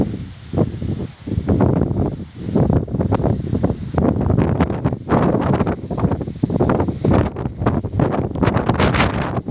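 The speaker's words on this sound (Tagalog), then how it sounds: "Napakalakas ng hangin dito, Diyos ko." Strong wind at Manila Bay buffets the microphone in continuous roaring gusts, loud and close, with no voices.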